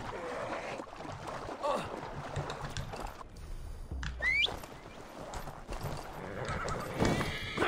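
In Assassin's Creed Valhalla, a horse's hooves clip-clop steadily while it gives a clear whinny partway through, with game ambience underneath.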